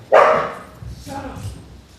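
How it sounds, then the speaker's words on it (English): A dog named Teresa lets out one sharp loud bark, followed by softer low vocal sounds and faint indoor background. "Teresa saw a rabbit and she barked"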